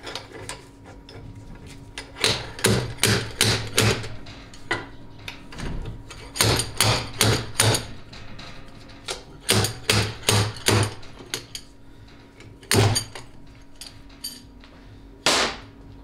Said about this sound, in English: grab a slide hammer. And all you're going to do is just alternate one side and the other and wrap it out.